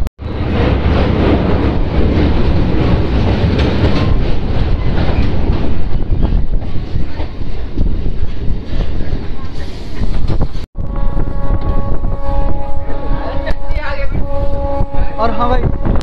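A MEMU train pulls out on the Rajgir–Fatuha route in Bihar. It makes a loud, continuous rumble close by, with horn-like tones and wheel clatter that carry on after a brief cut.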